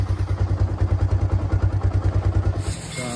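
A motorcycle engine running after a kick start, idling close by with a steady, heavy thumping pulse that drops away near the end.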